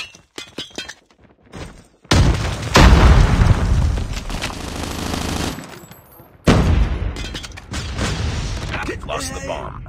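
A grenade blast in Call of Duty Mobile, a loud booming burst around the two-second mark with gunfire and mechanical clatter trailing behind it, then a second heavy impact later, all under game callouts.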